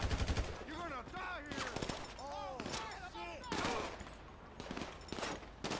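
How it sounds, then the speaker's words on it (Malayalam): Gunfire in the video game GTA 5: repeated bursts of automatic shots and single cracks in quick succession, loud and sharp throughout, mixed with swooping and whistling game effects. "ഇവിടെ നിന്നൊക്കെ വെടി വരുന്നതെന്ന് പറയാൻ പറ്റണില്ല."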